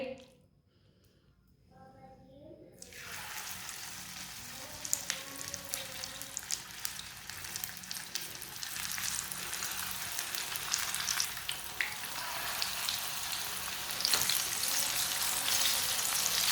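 Black chickpea pakora batter is dropped into hot oil on a lowered flame. After a quiet opening a loud, crackling sizzle bursts in and keeps building, dense and close, with popping spatters throughout.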